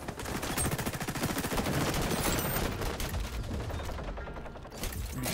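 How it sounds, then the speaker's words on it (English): Rapid automatic gunfire from an LVOAC rifle in the shooter game XDefiant, a dense, loud rattling burst of shots running almost continuously with mechanical clatter and no talk. "You shoot and the bullets go out the left side of the gun."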